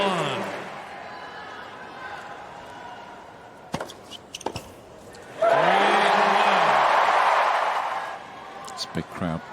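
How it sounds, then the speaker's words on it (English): A large tennis crowd at the US Open quarterfinal between Taylor Fritz and Alexander Zverev roars in a loud swell of cheering midway, framed by commentary, a sharp ball strike and scattered claps. "This big crowd pushing him towards the finish line."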